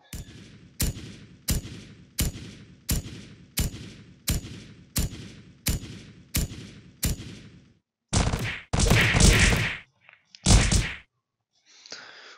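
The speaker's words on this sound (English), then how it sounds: "And we're gonna use this staple gun." Staple gun fired repeatedly in the video game Kick The Buddy, about a dozen sharp evenly spaced shots close up, followed by several louder, longer bursts of impact and reaction noise.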